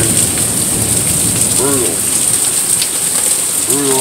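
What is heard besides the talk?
rain falling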